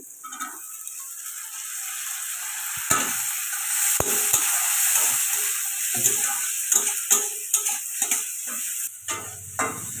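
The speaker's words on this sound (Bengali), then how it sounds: "আমার এদিকে সবজিটা ভাজা হতে থাক" Vegetables fry in a pan with a steady sizzle while a utensil scrapes and stirs in irregular strokes, close and fairly loud, with no voices.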